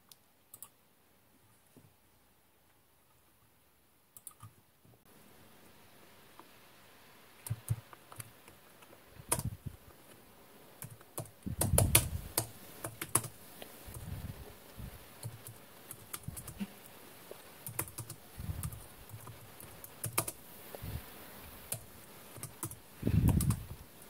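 Scattered keystrokes on a computer keyboard start after a few quiet seconds, then grow into irregular clicky typing with a few louder thumps, close and fairly soft.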